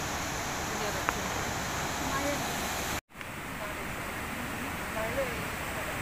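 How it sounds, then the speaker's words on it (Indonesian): Constant roaring rush of a waterfall on a forest river, a broad steady wash of falling water that drowns the surroundings, broken by a brief dropout and faint background sounds. "Latar belakang air terjun."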